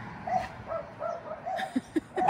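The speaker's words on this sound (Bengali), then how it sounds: "এদিকে ডগ ওদিকে ডগ" A dog whimpering and yipping nearby, a series of short, high whines and small yips in an irregular rhythm, fairly quiet and close, with no talk over it.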